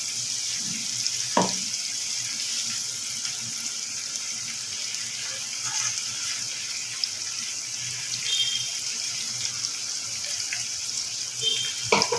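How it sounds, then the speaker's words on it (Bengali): Water used to rinse a spice bowl poured into a thin chicken curry, a steady, close rushing pour with a faint bubbling simmer and a couple of light clinks. "মশলা বাটি ধোয়া জলটা আমি এখানে দিয়ে দিলাম"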